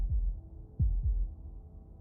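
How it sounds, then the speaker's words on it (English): Muffled heartbeat thumps in the video game Slay the Princess, a few deep, soft double pulses close and alone against a low hum. "That was the sound of a heartbeat,"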